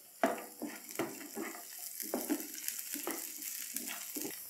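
Carrots with almonds and raisins frying in a pan as a spoon stirs them during biryani cooking, with repeated scraping strokes over a steady sizzle, close and moderately loud.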